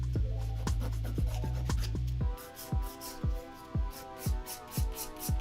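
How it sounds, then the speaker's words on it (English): A medium grit hand file rubs across the surface of a stiletto nail tip in quick repeated rasping strokes, close and steady, first a fast run of short strokes and then slower, evenly spaced passes. "just kind of go through the surface with my medium grit hand file just to create a little"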